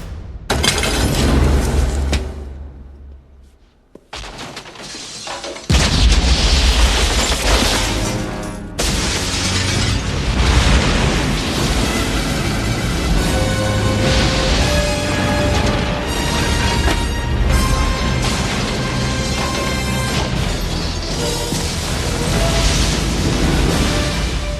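Loud film-scene blast with shattering and crashing debris from a Mission: Impossible restaurant explosion set, a sharp burst after a brief quiet gap, then sustained dense rumbling and breaking noise carrying on steadily to the end.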